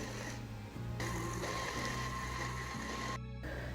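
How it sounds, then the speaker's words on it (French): Hazelnuts being ground in a blender, a steady droning motor hum with a low pulsing rhythm, fairly quiet and heard alone. "il vous faudra des noisettes que vous allez mixer"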